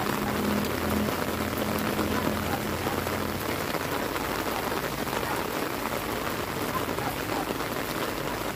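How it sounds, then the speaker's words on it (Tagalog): Heavy rain pours down in a rural province setting, a dense steady hiss of drops drumming on surfaces that holds constant throughout with no voices. "Super lakas ng ulan."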